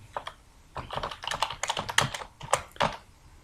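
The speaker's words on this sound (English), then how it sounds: "I can just type something like" Typing on a computer keyboard while building a sales invoice in Excel: a steady run of crisp, close key clicks in short uneven bursts, with no voice.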